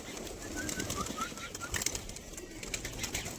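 Pigeons being penned at a friend's house, with soft cooing and light rustling of feathers over a faint background hum.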